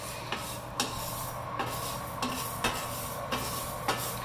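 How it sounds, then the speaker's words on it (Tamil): A home kitchen exhaust fan runs with a steady low hum while black urad dal is roasted, with light, evenly spaced clicks recurring over the drone. "சாரி, என்னோட எக்ஸாஸ்ட் ஃபேன் வந்துட்டு ஆன் ஆகிட்டே இருக்கு."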